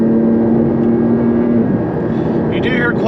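Michelin Cup 2 track tires on a Porsche 718 Cayman GT4 roll with a constant loud road roar while cruising, under a steady engine hum, with a voice talking over it.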